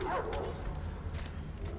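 Dog barking in the post-apocalyptic shooter Metro Exodus, a short burst of yips at the start followed by a low rumbling game ambience.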